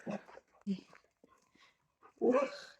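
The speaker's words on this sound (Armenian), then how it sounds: "առանց հաչել չես կարողանում" A stray dog gives a few short barks close by, mixed with people talking, with quiet gaps between the barks.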